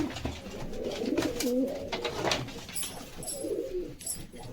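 Pigeons coo softly in low, rolling warbles, with faint high chirps from other birds and a hushed background hiss.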